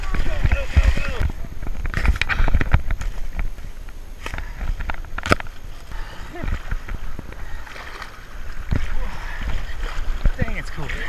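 Canoe or kayak paddling on a river during a whitewater adventure race, with water splashes and sloshing strokes close by under lively voices and exclamations from the paddlers.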